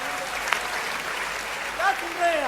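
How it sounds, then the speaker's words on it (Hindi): An audience at a Hindi poetry recital claps steadily throughout, with a voice briefly rising over the applause near the end. "आपको मजा आया हो तो एक बार तालियां बजाइए।"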